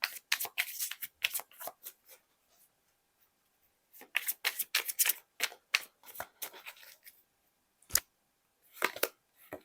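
Tarot cards shuffled and drawn by hand during a Turkish reading, giving bursts of crisp riffling and slapping card sounds, close and clear, with short pauses between handling and no talk.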